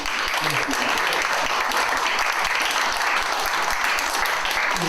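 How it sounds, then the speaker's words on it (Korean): A lecture audience at a Yongsan forum applauds in a steady, dense roar of many hands clapping, loud and continuous from start to finish. "다시 한번 박수"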